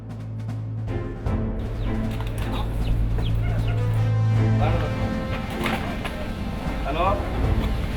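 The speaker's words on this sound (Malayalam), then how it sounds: "കൂവിത്തെളിഞ്ഞ നമ്മുടെ പൂവൻ കോഴിയുടേതാണ്" A rooster in Dubai clucks and crows close by, with sharp repeated calls over a low steady background hum and some faint rustling.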